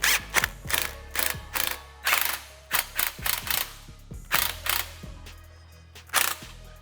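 A hand ratchet snugs up the exhaust clamp on a 2018-2023 Mustang GT AWE Touring Edition cat-back exhaust, giving a close, steady run of sharp clicking strokes in quick bursts, about fifteen pulls in seven seconds, with no talk.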